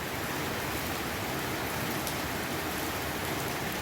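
Rain pours steadily onto a house in Bang Na, a dense, even hiss of drops hitting surfaces close by, loud and unbroken, with no voices.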